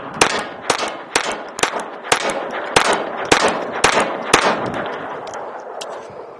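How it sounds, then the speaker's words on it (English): A Ruger LCP II .22 pistol fires about ten quick shots at 15 yards, each one a sharp crack with a metallic clang as the round strikes a large metal ammo can outdoors, spaced at a brisk even rhythm. "I've moved to 15 yards, and I'm shooting a metal a 30 millimeter ammo can"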